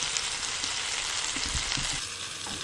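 Pumpkin cooks in a pan with a steady, fairly loud sizzle and hiss, with soft low thumps of food being moved about through the middle.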